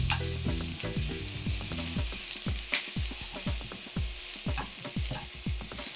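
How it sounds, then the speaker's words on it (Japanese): Onions sizzle and fry in a pan of olive oil, with a steady crackling hiss and repeated stirring scrapes close by, loud and continuous with no talk over it. "ここに玉ねぎですね、玉ねぎを入れて炒めます"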